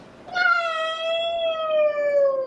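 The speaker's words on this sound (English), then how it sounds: "This is a huge cat." A huge, very fluffy long-haired cat at a grooming salon gives one long, loud drawn-out meow, close and clear with a slowly falling pitch, with no talking over it.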